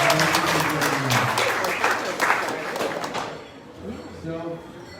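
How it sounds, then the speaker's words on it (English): Audience applause for a speaker at a Democratic Party of Sandoval Friday gathering, a dense clapping crowd that stays loud for about three seconds and then thins out, with a voice talking over the fading claps. "Another round of applause, please, for Stephanie."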